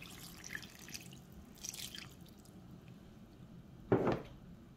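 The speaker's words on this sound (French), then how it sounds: "on va venir ajouter un peu d'eau à l'intérieur" Water poured into a cooking pot for a dried okra sauce with palm oil, smoked oxtail and chicken: soft trickling and splashing up close, ending in a brief louder splash, with no talking.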